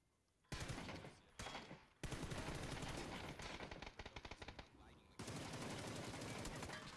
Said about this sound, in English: I'm shooting right at him with both guns!